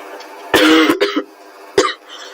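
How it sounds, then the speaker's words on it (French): Two bursts of harsh coughing close to the listener, the first a quick cluster of coughs, the second a single cough a moment later. "Désolé encore parce que je tousse."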